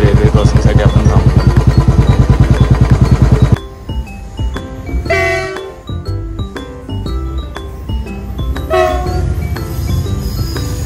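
A train passes a railway crossing on a village road. It opens with a loud, rapid rhythmic clatter of wheels that cuts off, followed by a mix of engine noise and loud tonal sounds, with voices talking over it.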